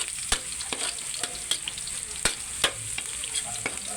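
Garlic sautéing in a pan for pancit bihon, with a low steady frying hiss broken by sharp, irregular clicks of a utensil striking the pan, close by and with no one talking.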